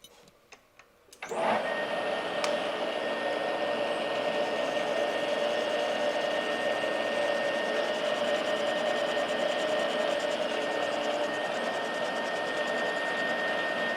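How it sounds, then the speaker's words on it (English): Cold-rolled steel is machined with a loud, steady whining and grinding drone that starts abruptly after a second of faint clicks and then runs on without a break. "I hate machining cold rolled."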